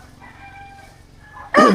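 A rooster crows at a farmyard with a motorcycle being stripped for a chassis swap, a loud, close call bursting in at the end after a stretch of quieter ambient noise.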